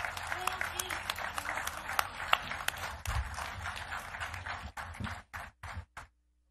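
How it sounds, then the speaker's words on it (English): A press conference audience applauds heavyweight boxer Alexander Usyk after his rematch with Joshua. The clapping is dense and close, then thins into scattered claps that fade out at the end. "Give him a round of applause."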